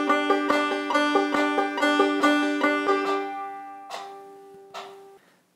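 A clawhammer banjo plays a steady bump-a-diddy rhythm along with a metronome. Bright plucked notes ring over evenly spaced ticks, then the picking thins out to a few last struck notes that fade away with no talking.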